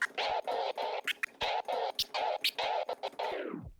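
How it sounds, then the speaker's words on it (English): A sustained scratched sample on a turntable chopped into rapid stuttering bursts by a fader in a transformer scratch, ending in a downward slowing whine. "So this is the transformer scratch."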